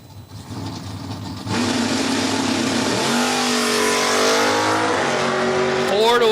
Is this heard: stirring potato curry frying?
no